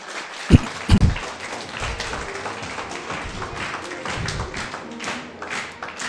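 Scattered applause from an audience at a health product talk, with a few sharp thumps early on and then moderate, uneven clapping.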